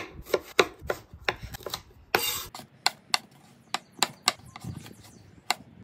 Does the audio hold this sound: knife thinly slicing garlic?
yes